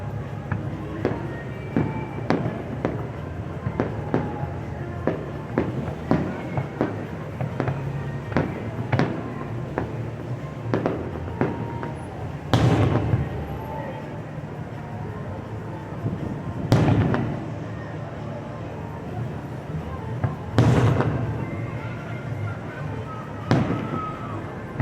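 Fireworks bursting over Pompano Beach, Florida for a July 4th Independence Day show, with repeated sharp booms and crackling reports at irregular intervals, several heavy blasts standing out, over a steady crowd murmur and occasional nearby voices.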